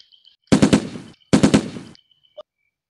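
Two short bursts of automatic gunfire from a video game gun, each a rapid rattle of close, loud shots separated by a brief pause, with no talking over them.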